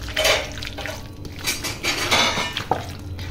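Chicken pieces being mixed by hand or spoon with yogurt and ground coriander in a bowl, giving a steady close run of wet squelching and scraping with occasional clinks against the dish.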